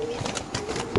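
Racer pigeon squabs in a loft give a few soft, close coos spread across a short moment, with faint background murmur.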